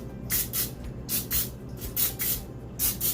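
Non-stick cooking spray hisses onto a muffin pan in a series of short bursts, roughly ten quick sprays in a row, close and moderately loud with no talking.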